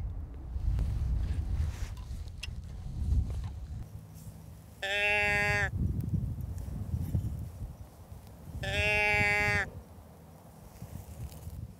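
Two drawn-out, nasal deer grunt calls sounded by a hunter in the Maine woods, each lasting about a second with a long pause between, loud and close over low rumbling background noise.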